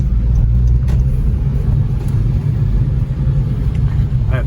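Car with a 2.4-litre engine pulling away under acceleration, a steady low engine rumble heard from inside the cabin, continuous and fairly loud with no talk over it.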